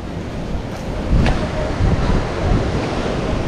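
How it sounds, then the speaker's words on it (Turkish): Ocean waves washing in at a hidden cove in Bali, a close, rushing surf with broad swells of noise and some wind buffeting the microphone. "görüyorsunuz daha dalgalar buraya kadar geliyor"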